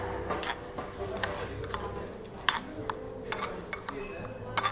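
A metal spoon stirring soup in a bowl, with repeated light clinks and taps at an irregular rhythm, close up, over soft restaurant background murmur.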